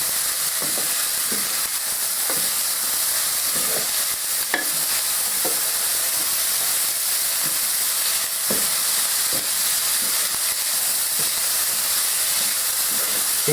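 Meat sizzles and hisses steadily in a hot frying pan for a chilli, with occasional scrapes and clicks of stirring over the continuous frying noise.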